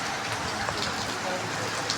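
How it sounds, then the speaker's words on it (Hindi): Heavy rain pours down in a loud, constant roar of drops, with scattered louder splats standing out against the dense wash. "बहुत तेज़ बारिश हो रही है"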